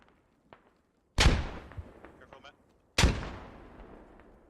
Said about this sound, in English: Quite a lot of nades going in